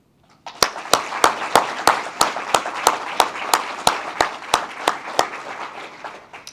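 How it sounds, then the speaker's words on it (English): Applause for guests at a Coast Guard association annual meeting, sharp claps falling in a steady, even rhythm of about three per second, loud and close, with no talking. "Please join me in extending a warm round of applause to our guests."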